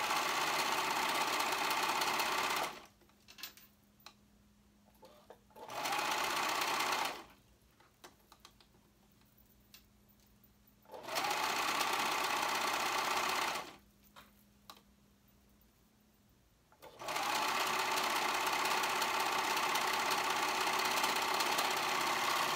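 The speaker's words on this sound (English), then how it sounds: "And now I'm going to go ahead and serge around the raw edge on the top." A serger overlocks the raw edge of sweater fabric in three loud, steady whirring runs of several seconds each, broken by quiet gaps where the machine stops and the fabric is adjusted.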